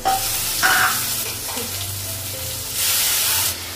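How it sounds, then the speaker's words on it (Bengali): Loud, continuous sizzling of spices frying in a pan, with brief stirring scrapes and a burst of stronger hissing near the end. "মশলাগুলো একটু কষে নিয়েছি, আর একটু কষে নেবো"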